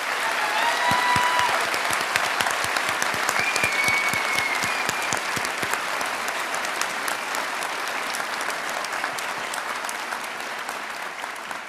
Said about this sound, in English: Would everyone please join me in giving a round of applause